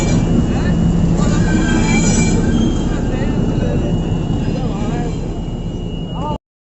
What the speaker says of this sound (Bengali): ট্রেনটা দেখি যাওয়ার সময়